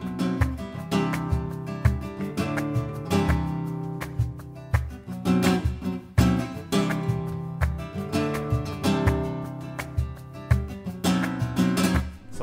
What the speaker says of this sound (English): you'll remember that the index finger rasgueado sounds like this.